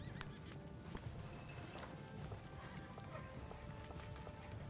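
Horses neigh and clop with steady hoofbeats in a continuous battle-game soundscape, a horse-drawn chariot unit in Civilization 7 moving on the map, with a whinny or two rising over the constant clatter.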